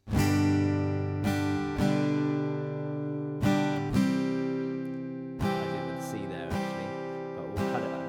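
Bright acoustic guitar chords strummed in an uneven, syncopated rhythm, some strums landing early, each ringing out between hits.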